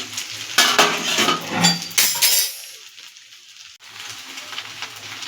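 Pasta with boiled egg being stirred in a pan over medium heat, with scraping and clinking of a utensil against the pan over a soft sizzle, busy at first and then quieter.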